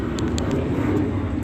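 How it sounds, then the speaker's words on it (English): An airplane flies over near Ontario airport, heard as a faint, steady, distant roar captured by an outdoor surveillance camera, with no talk. "planes flying"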